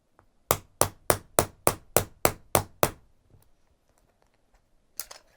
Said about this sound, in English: I'm going to hammer that into place.